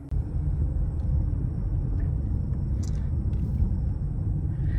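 An imported car accelerates on the road, its engine and road noise forming a steady, loud low rumble that holds from start to finish with no talking.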